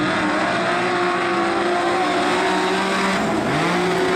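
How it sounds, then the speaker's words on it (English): Modified sedan race cars roar away from a green-light start at Lismore Speedway, a loud sustained wall of engine noise with rising revs and occasional tire squeal, no voices. "Green lights come on, they're away and racing."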